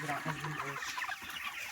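Chickens on a poultry farm cluck and murmur in a close, busy flock, with overlapping calls and a constant rustling din.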